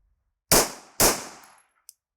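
Two loud pistol shots roughly half a second apart during a flash sight picture drill, each a sharp crack with a trailing decay, followed by quiet and a faint tick.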